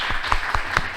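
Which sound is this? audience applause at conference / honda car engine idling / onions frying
audience applause at conference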